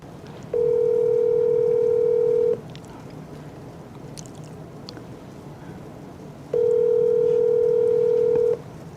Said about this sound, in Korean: 또 이거 우리 또 바로 이렇게 전화를 합니다.